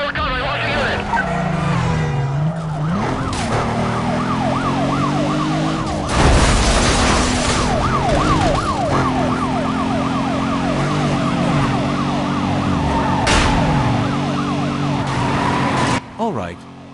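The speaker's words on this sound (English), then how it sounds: "Sirens screaming behind me, tires howling under me" Wailing police sirens in the game Need for Speed Most Wanted sweep up and down continuously, loud and close, over a rumbling engine, with bursts of screeching tires and a brief crash.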